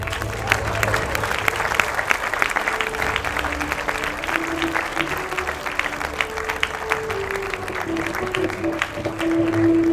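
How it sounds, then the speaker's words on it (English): A university awards ceremony audience applauds a taekwondo champion receiving her colours award, sustained loud clapping from a large crowd throughout, building slightly toward the end. "Please give a big round of applause to Abhirami Peru."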